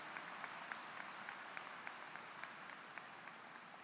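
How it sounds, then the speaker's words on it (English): Faint, distant applause from a high school graduation ceremony audience, a continuous patter of many hands clapping with occasional sharper claps, sustained evenly throughout. "How about one more nice round of applause for all of our honored guests and our class officers."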